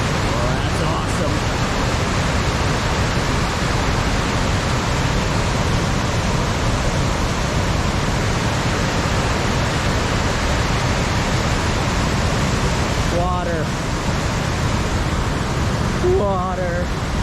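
A river pours over the falls at Carleton Place/Almonte in a steady, loud, broadband rush that never lets up, with a couple of brief voices rising above the water near the end.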